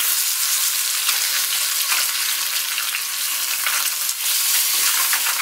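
A tilapia fillet sizzles steadily in a pan, the frying loud and continuous from start to finish, with faint scraping as it is flipped.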